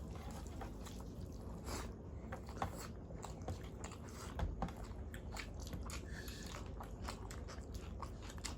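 Someone bites and chews chili along with rice and spicy egg curry, making soft, close crunches and wet chewing at a quiet level over faint background noise.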